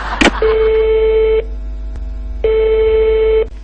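A steady telephone line tone sounds after a handset is hung up, two long sustained beeps of about a second each separated by a pause, loud and clean, preceded by a brief click and thump.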